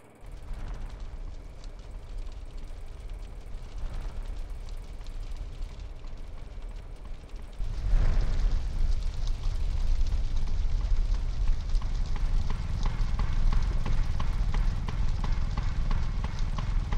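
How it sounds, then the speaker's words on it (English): Fire crackling and roaring in the PS2 game GTA San Andreas, a steady rumbling blaze that swells louder partway through and stays dense and continuous. "They started a fire to keep us back!"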